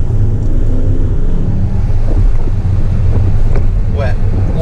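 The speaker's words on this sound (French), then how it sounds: "Ouais, on entend bien le V8." A deep, loud V8 engine of a Bentley Continental GTC rumbles steadily throughout, its low throb mixed with gusting wind noise and a few sharp crackles near the end.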